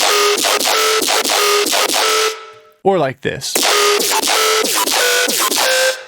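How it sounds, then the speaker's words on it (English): A thick, buzzing reese synth bass growls in repeated pulsing notes, loud and up front, broken briefly by a short warbling sweep in the middle. "So our next patch is going to be the growling reese"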